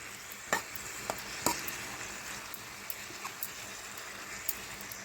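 Onions and tomatoes for a gobi tomato curry are stirred in a sizzling pan, a steady low fry with a few distinct spoon knocks and scrapes scattered through, close and without talk.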